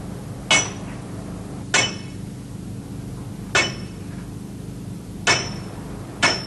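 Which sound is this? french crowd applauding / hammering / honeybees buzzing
hammering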